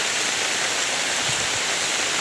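Floodwater from a river swollen by nonstop rain rushes past houses submerged to the roof, a loud, steady broadband roar with no pauses, close by and uninterrupted by talk.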